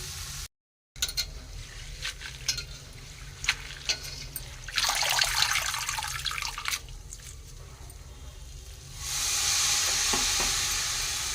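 Coriander leaves frying in hot oil crackle and sizzle, with a stirring scrape, a denser burst of sizzling midway and a steady hiss near the end, close and fairly quiet.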